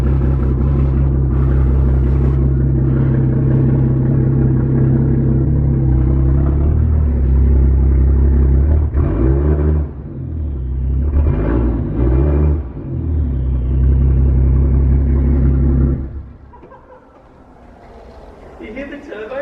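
Straight-piped turbocharged Ford Falcon engine idling and revving loudly up close, a deep harmonic rumble with blips of throttle, before the revs drop away near the end.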